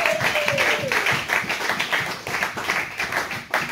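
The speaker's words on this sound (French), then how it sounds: "Est-ce que nous pouvons encourager par les acclamations?" Church congregation applauding together during an evangelical service, a dense, steady wash of hand claps filling the whole span at close range, with a brief sliding tone near the start.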